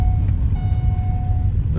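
A vehicle beeps outside near rented casitas by a nature sanctuary, two steady electronic tones, the second longer, over a loud, constant low rumble of wind or traffic.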